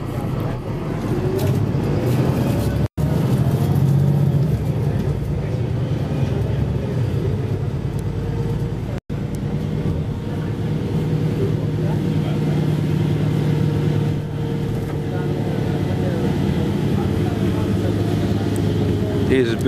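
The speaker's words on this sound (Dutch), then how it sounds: "Oh, de motorgeluid." A Veolia city bus engine drones steadily during a ride on route 44, with loud, continuous low rumble and road noise inside the cabin while a person talks over it.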